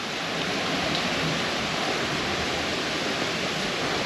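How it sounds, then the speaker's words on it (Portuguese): Waterfalls near Praia do Sorocotuba beach in Guarujá roar in a dense, steady rush of falling water that fills the whole scene without pause. "as quedas d'água aqui"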